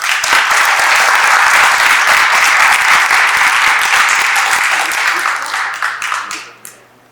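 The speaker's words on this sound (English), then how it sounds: "That's another round of applause." A crowd at a public library event applauds steadily, a dense wash of clapping that holds strong for several seconds before thinning out and fading to a few last claps.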